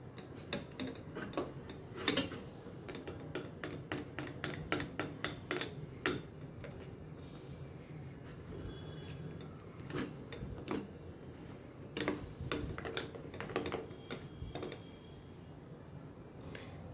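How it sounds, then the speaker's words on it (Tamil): Ground paste is stirred into idli batter in a bowl, with faint, quick clicks and taps of a spoon against the bowl in an uneven rhythm amid soft wet mixing, all quiet and close. "இப்போது அரைச்ச விழுதை நம்ம இட்லி மாவில் கலந்துக்கலாம்."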